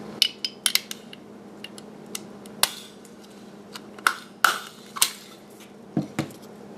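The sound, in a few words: stapling a paper chain link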